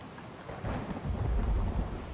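Thunderstorm in the video game Road to Vostok at dusk in summer, a low rolling thunder rumble swelling over steady rain hiss, no voices.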